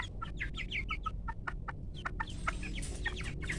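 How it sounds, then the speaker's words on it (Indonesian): Several farm chickens cluck in quick, uneven bursts close by, soft but clear over a low background hum, the calls overlapping toward the end. "Ada 10 ekor ayam dan ini semuanya merata."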